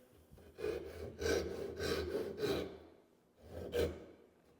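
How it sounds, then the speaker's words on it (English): A Gikoh Ryoba Japanese pull saw crosscuts wood with its crosscut teeth in four steady rasping strokes, a pause, then one more stroke, close and moderately loud with no talking. "now we can come here with the crosscut"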